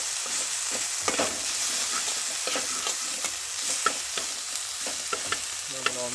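Food frying in a pan during home cooking gives a steady, close hiss of sizzling, broken by scattered scraping taps of stirring and a brief tonal ring near the end.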